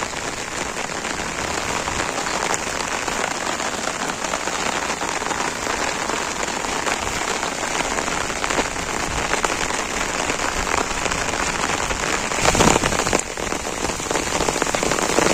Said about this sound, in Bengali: মানে এখন ভালো বৃষ্টি শুরু হয়ে গেছে ইতিমধ্যে